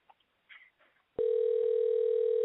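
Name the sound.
telephone dialing and ringing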